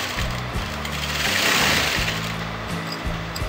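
A sewing machine stitches a kurti in a fast, steady mechanical chatter, pausing briefly a few times and then starting again, close and loud.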